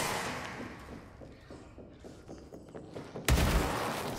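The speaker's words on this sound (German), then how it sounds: "Also die Dinger hier explodieren." A chain reaction of explosions in the video game Control: a rapid string of dull thuds and pops rolls on for several seconds before one sharper, louder blast near the end.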